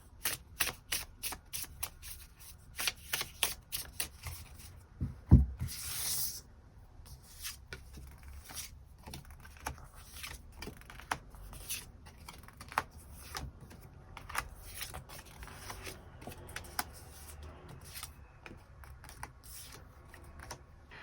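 Tarot cards are shuffled and drawn in a quiet room, with a run of crisp riffling snaps, a sharp slap, then scattered soft flicks and slides of cards laid out, faint and close.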